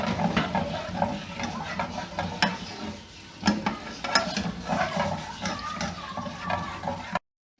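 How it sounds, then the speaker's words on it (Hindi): A spoon stirs a milk sauce, seasoned with salt, in a pan on the stove while making chicken vegetable spaghetti. The scraping and swirling is steady and close, with sharp clinks of the spoon against the pan and a faint sizzle underneath. "साथ साथ चमचा इसलिए हिलाते जाना है कि इसमें गुठली ना बने"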